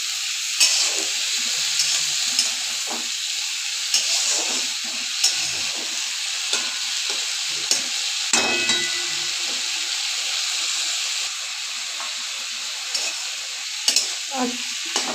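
Fresh flat broad beans with turmeric fry in a pan while being stirred, giving a steady hissing sizzle broken by scattered scrapes and knocks of the spoon.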